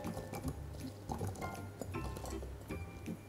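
Diced apple pieces drop into cold water in a saucepan, making faint, scattered watery plops and small clunks over a few seconds, soft and close.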